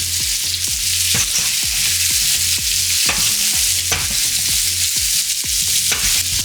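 Zucchini and vegetables for penne primavera sizzle steadily in a pan, a constant bright frying hiss under repeated scraping and stirring knocks of a utensil against the pan, close and fairly loud with no talking.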